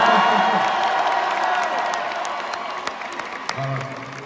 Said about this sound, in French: Un maximum de bruit pour vous.